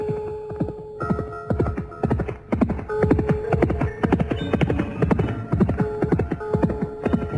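A ridden horse gallops hard, hooves clip-clopping in a quick, steady, loud rhythm throughout, with a tonal background layer running beneath the hoofbeats.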